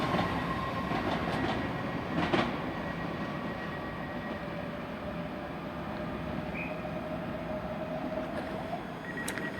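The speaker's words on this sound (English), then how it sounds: "Also departing out the 334s to Milngay" A ScotRail Class 334 electric multiple unit pulls away from Haymarket station, a steady rolling rumble with a faint electric whine and a few wheel clicks, moderately close and continuous without voices.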